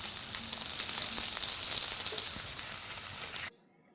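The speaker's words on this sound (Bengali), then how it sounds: "এবার তেলের মধ্যে পেঁয়াজগুলো দিয়ে দিলাম, সেগুলো এবার নেড়ে নিয়ে একটু ভাজা ভাজা করলাম" Chopped onions and tomatoes sizzle steadily in hot oil in a pan, a loud, continuous frying hiss that cuts off abruptly near the end.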